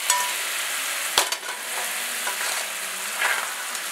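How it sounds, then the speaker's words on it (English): Onions and mushrooms sizzling hard in a cast iron pan as it is deglazed, with a sharp scrape or clink of a utensil early on and continuous bright hissing throughout, close and loud. "deglaze that cast iron pan with those onions and mushrooms, just to get those good bits off the bottom of that pan there"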